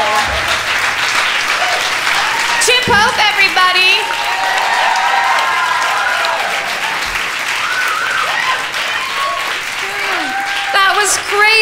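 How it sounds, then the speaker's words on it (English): Dense, continuous clapping from a person competing in a clapping contest against a computer, loud and sustained throughout with overlapping voices and shouting from people nearby. "Chip has clapped against a computer and won."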